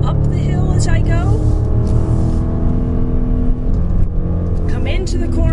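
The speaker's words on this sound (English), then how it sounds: "Get on the gas as I come through here." A 2016 Range Rover Sport SVR accelerates hard on a track, its engine roaring loudly and steadily as the driver talks over the noise.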